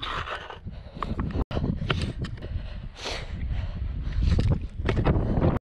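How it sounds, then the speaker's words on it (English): Heavy, blustery wind buffeting a microphone at a skate spot, with a constant low rumble and roar that swells and surges throughout, briefly cutting out once. "It's super windy right now,"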